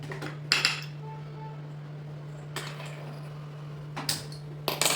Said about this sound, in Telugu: దీన్ని తీసుకెళ్ళి